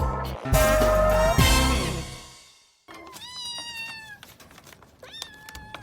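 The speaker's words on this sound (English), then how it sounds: "Kittens." Several high, thin meows from kittens, repeated in short bursts after a loud musical opening that fades out.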